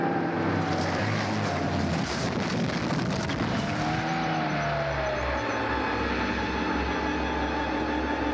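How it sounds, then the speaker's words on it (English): A car rushes closer at speed, its engine roaring loud and broadband before the pitch drops into a lower, steady rumble as it passes nearby. "Car, coming fast."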